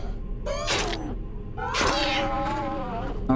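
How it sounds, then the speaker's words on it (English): A cat in the video game Soléil meows twice, long drawn-out wavering cries close and loud, the second one longer, over a faint steady hum. "The cat can take care of herself, is what I've learned."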